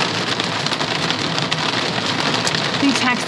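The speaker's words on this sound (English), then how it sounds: "That is hail." Hail and heavy rain hammer a camper during a Black Hills hailstorm, a steady loud roar of drumming with sharper ticks of stones striking the shell.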